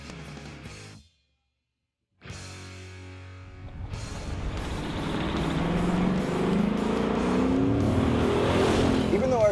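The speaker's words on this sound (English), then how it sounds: "Now let's take this car back out onto the street for some driving impressions." A 2015 Ford Mustang GT V8 engine revs and accelerates on a street, growing louder and steadier as it drives, after a brief silent gap.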